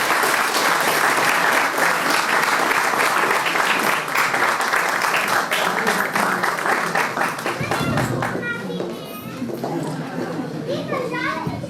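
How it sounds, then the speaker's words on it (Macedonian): An audience at the 2024 Probištip sportsperson-of-the-year awards ceremony claps in sustained, dense applause for several seconds before it fades into children's chatter and voices. "ве молам уште еден аплауз за вечерашните добитници на златна плакета"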